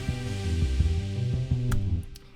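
A sustained GarageBand synth part with a quarter-bar delay plays as repeating low pulsing tones with echoing repeats for a couple of seconds before fading.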